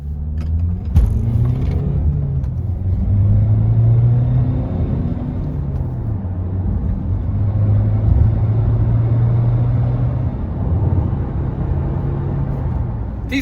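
A 2017 Honda CR-V SE Plus diesel accelerating through first, second and into third gear on a wet road, its engine drone rising in pitch and dropping at each shift, steady and close from inside the cabin.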